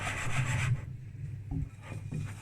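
Yogurt cake batter being mixed in a bowl and its sides scraped, giving soft rubbing, rasping scrapes, steady for the first part, then quieter intermittent scrapes.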